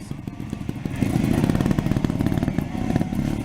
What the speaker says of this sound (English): give that bike another flip throttle